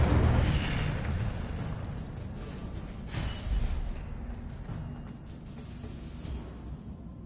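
Incendio fire spell cast in Hogwarts Legacy, a broad roaring burst of flame at the start that settles into a sustained rumbling crackle, fairly loud and steady with a few sharper pops midway, no voices over it.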